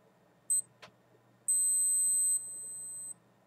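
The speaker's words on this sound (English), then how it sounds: "Now we have the individual beep for every second." A short high electronic beep from a yacht timer watch, a brief click, then a long steady high-pitched tone marking the race start, dropping slightly in level before cutting off.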